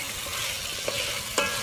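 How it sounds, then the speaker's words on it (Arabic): Food sautéing in a pan, a steady close hiss of frying with a couple of brief clinks from stirring, heard alone without any voices. "نصوصيه شويه"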